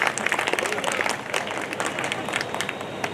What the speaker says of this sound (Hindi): बढ़िया है तो ताली आना चाहिए साहब